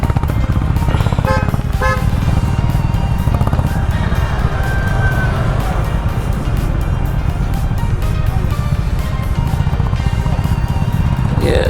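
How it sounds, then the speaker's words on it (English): Group of Honda Big Wing motorcycles arriving along a road on a ride from Mangalore to Madikeri, engines droning steadily nearby with several horn toots early on over constant wind and road noise. "here comes the rest of the motorcycle"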